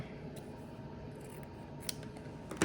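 Scissors cut through fabric while shorts are being made, giving faint repeated snips and rustles that grow a little louder near the end, with no talking.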